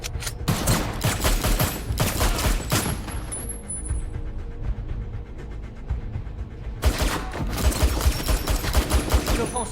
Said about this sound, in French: Tire à volonté.